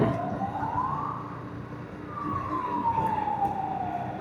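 An ambulance siren wailing up and down in a dark road tunnel in Yunnan, China, echoing and somewhat distant, over a steady low rumble of traffic.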